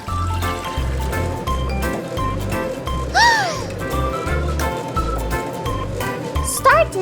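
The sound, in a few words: toy washing machine filling with water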